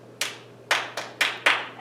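Five sharp hand claps in an uneven rhythm, close and crisp, performed as a clapped rhythm pattern in a music-class circle game, with a faint steady hum underneath.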